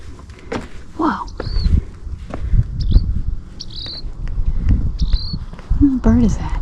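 Outdoors at a campsite, a bird gives short repeated high calls at regular intervals over insect chirring, footsteps and rustling, while people talk nearby.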